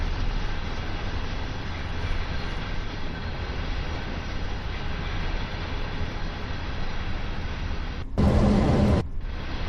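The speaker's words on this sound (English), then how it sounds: "Here comes the caboose. I saw a flash of red. It's the end of the train," A freight train on the Clinchfield Railroad Greenbriar Branch in Train Sim World 2 rolls past to the caboose at the end, a continuous loud rumble and rail drone with a brief louder burst near the end, no talk.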